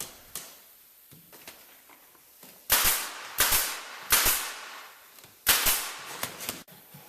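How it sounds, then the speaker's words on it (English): A pneumatic stapler fires 18 gauge 3/4 inch staples into the corners of a wooden bottom board frame, giving five or six sharp, loud pops at uneven intervals, with small clicks and handling noises between shots. "Then nail or staple each corner of the frame, checking for square."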